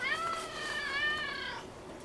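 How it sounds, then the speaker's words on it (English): A cat that lives in a garage meows once in a long drawn-out wavering call lasting about a second and a half, fairly close but soft, with no talk over it. "I guess you hear my garage cat meowing and acting a fool."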